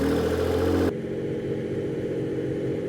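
A 1991 Dodge Stealth engine idles straight piped with no muffler, a steady, loud, rough rumble that holds on evenly after a brief tonal sound cuts off.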